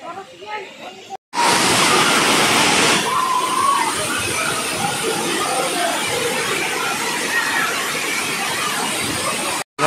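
Sirimane Falls near Sringeri in Chikmagalur, a waterfall where crowds bathe, roars as a loud, steady broadband rush for most of the stretch, after a brief dropout near the start, with voices faintly audible beneath.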